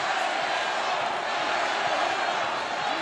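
A steady, dense roar of a large boxing arena crowd at a Canelo Alvarez fight, loud and unbroken throughout with no distinct voices standing out.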